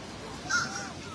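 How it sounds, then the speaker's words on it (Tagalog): A crow caws once, briefly and fairly faint, over a soft seaside wash, with birds that people feed along the shore. "Yeah, there's a bird right there."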